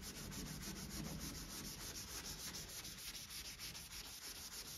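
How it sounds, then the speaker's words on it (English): Wet sanding of single stage car paint produces a steady, rhythmic scratchy rubbing, with quick strokes back and forth, close and continuous throughout, with no talking. "It's okay to flex it a little bit if you need to get in an area and sand further"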